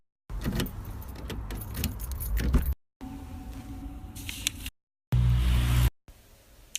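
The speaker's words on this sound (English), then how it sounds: "Keys." A bunch of keys jangles in several close, fairly loud bursts separated by short pauses, with a brief low thud in the last burst.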